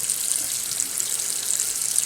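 Cold tap water runs steadily onto lettuce in a kitchen sink for a Greek salad, a continuous bright hiss and splash held at an even level throughout, with no talking.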